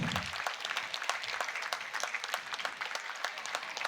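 A convocation ceremony audience applauds steadily and fairly softly, with many distinct claps blending into a continuous patter over four seconds.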